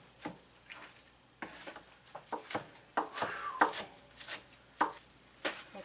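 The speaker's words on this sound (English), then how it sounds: "Give it a rough chop." Fresh spinach gets a rough chop with a knife on a cutting board, a quick uneven series of close, crisp thuds with brief pauses between bursts and no talking.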